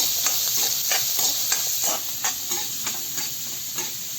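Coconut pieces and green chili sauté in a pan while they cook for a prawn theeyal, giving a close, continuous sizzle broken by repeated scraping strokes of a spoon stirring at a steady rhythm.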